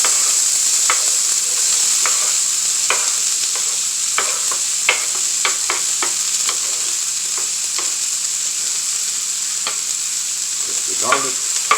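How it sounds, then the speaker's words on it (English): Onion, peppers and garlic sizzle steadily in a hot pan for Puerto Rican picadillo, a loud, continuous frying hiss dotted with sharp pops and crackles, with no one talking. "We're going to start with onion, peppers, garlic. We're going to put it right in there."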